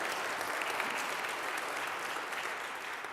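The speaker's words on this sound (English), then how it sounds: "I hope you're clapping for her or the Lord" Steady applause from a church congregation, marking a pastor's 25th wedding anniversary: even, continuous clapping at moderate distance that runs throughout without any speech.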